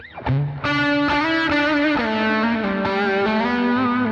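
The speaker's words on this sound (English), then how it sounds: "A stereo tape delay and a large hall reverb, which is giving me this tone." Sustained electric guitar notes from a humbucker ring out with a thick, saturated tone, each chord change blooming into long stereo tape delay repeats and a spacious large hall reverb wash.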